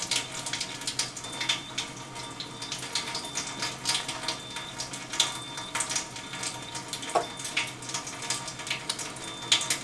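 Water streams steadily from the gray hose of an Enagic SD501 water ionizer, a continuous splashing hiss with small spatters throughout, close and moderately loud with no talking.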